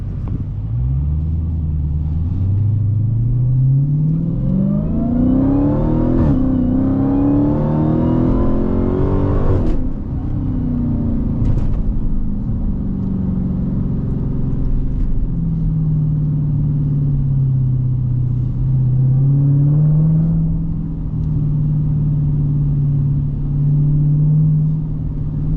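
A Hellcat in track mode revs and accelerates hard, its deep engine note climbing through the gears with a rising roar, then settling into a loud, steady rumble close by.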